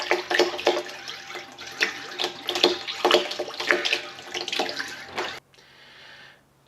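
Water gushes steadily into a tank, a close, continuous splashing rush that cuts off abruptly near the end.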